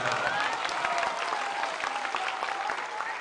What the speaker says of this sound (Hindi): ताली बजावे से जान ना छूटी